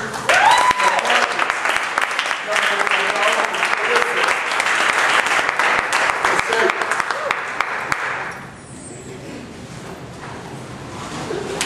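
Audience at a poetry night clapping loudly and continuously for about eight seconds, then the applause dies down into quieter room noise.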